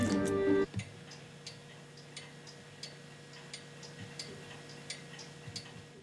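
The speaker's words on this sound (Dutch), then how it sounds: "Die klokken van hem klinken harder dan het darten." Several clocks ticking in a neighbour's home during a dispute over noise, a steady series of sharp ticks about every half second, fairly close and alone after a brief louder burst at the start.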